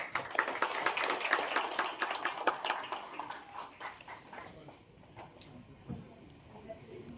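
Audience applause at an energy conservation and decarbonization award event in Nagpur: dense, close clapping for about four seconds that thins out and fades, with speech nearby.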